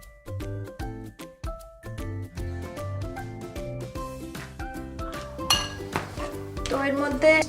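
A spoon clinks against a bowl while mixing a paneer tikka marinade with oil and a pinch of sugar, giving bright repeated pings and taps, close and clear, with music playing underneath.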